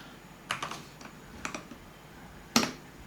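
Computer keyboard keys pressed while configuring an Ethereum validator node, a few scattered clicks in small clusters followed by one sharper, louder keystroke, close and alone.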